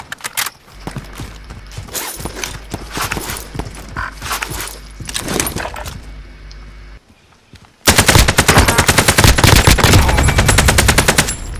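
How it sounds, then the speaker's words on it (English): A sentry gun in Call of Duty: Warzone fires long, loud, rapid automatic bursts, after scattered shots ring out nearby, with the rattle continuing steadily to the end. "Oh my god, sentry gun!"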